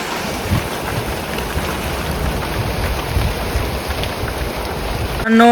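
Unseasonal rain pouring outdoors onto a plank shelter near a flock of sheep, a steady, loud broadband hiss with a brief louder burst at the very end.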